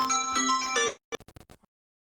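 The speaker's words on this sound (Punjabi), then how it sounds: "ਉਹ ਫਿਰ ਫੋਨ ਆ ਗਿਆ" A phone ringtone plays as a bright melodic tone for about a second, then a few short chirping beeps follow and stop, fairly close and alone.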